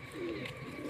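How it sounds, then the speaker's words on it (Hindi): A champion racing pigeon gives a soft, low cooing call, faint and brief against a steady background murmur. "मूसा अली इस कबूतर का नाम है"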